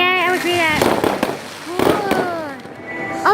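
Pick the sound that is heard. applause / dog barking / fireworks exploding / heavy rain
fireworks exploding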